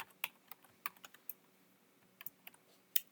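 Someone types on a computer keyboard in quick, uneven clusters of faint, close key clicks with short pauses between bursts, and no voices.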